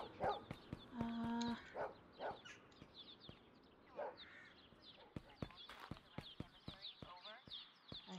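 Dog barking in the Drug Dealer Simulator video game, a few short barks scattered among clip-clop-like footsteps and game noises, with a person talking over it and voicing barks in imitation.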